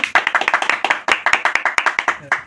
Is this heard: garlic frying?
no